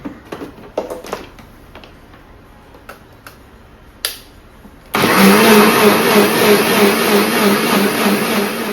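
A kitchen mixer grinder grinding a cooking paste starts abruptly partway through, a loud steady whine following a few scattered clicks and taps.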